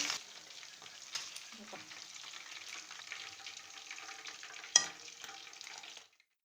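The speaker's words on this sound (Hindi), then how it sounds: "ये भी फ्राई हो गए हैं। अब मैं इन्हें भी निकाल लेंगे।" Chicken pieces frying in hot oil for a crispy fried chicken dish give off a steady, soft, continuous sizzle with one brief louder crackle near the end. The sizzle then stops abruptly, and no one speaks.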